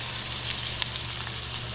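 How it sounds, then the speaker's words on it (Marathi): Chivani fish fry on a hot tava pan, a steady dense sizzle close by with a few faint pops. "आता चिवणी बघा आई टाकते तव्यात बघा आणि आवाज बघा"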